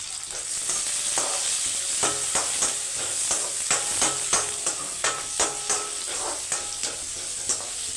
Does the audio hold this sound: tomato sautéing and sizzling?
yes